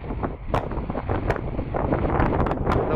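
Strong sea wind on a Thai coast buffets the microphone in continuous gusts, a rough rumbling roar with occasional sharp rustles.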